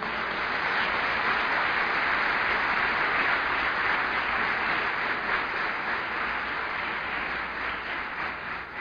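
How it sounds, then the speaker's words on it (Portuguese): A church congregation claps together for a sustained stretch, producing a dense, even wash of applause that holds steady and then tapers slightly at the end. "Vamos dar uma salva de palmas para esse Jesus?"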